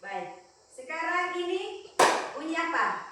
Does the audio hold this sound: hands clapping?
yes